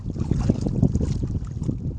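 Outboard-style engine of a small fishing boat at sea, sputtering and misfiring, a steady uneven low rumble with irregular pulses, wind and water noise mixed in, no talk.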